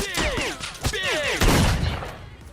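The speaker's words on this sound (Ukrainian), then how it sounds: "ми почали стріляти у своїх" Rapid bursts of gunfire in the video game Stalker crackle over a busy mix of sounds, with a louder sustained volley near the end.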